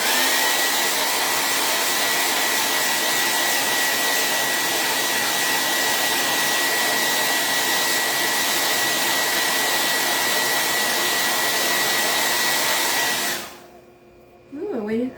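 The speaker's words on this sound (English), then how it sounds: "now, I'm about to get loud with the blow dryer." A blow dryer roars steadily and loudly for about thirteen seconds, heating craft wax held close, then shuts off, leaving quiet room sound.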